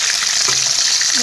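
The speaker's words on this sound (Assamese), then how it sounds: "এয়া দেখিছেনে মাছখিনি অলপ অলপ ফ্ৰাই হৈ গৈছে।" Fish frying in a kadai, a close, bright hiss of spattering oil filling a brief moment, with a faint voice murmuring underneath.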